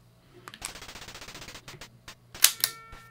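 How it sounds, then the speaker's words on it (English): Gunfire in the video game Super Russian Roulette: a quick rattling string of evenly spaced pops, then after a short pause two sharp, louder bangs close together. No voices are heard. "You shot at me!"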